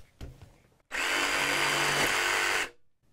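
A jigsaw fitted with a Diablo blade cuts with a loud, rough buzzing rasp for about two seconds, then stops abruptly after a brief click at the start.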